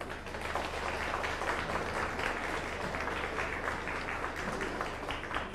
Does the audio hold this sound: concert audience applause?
yes